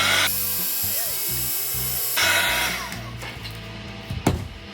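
A heat gun blows hot air over resin heart key chains, a loud steady broadband whoosh that cuts off and restarts, then fades with a few knocks near the end.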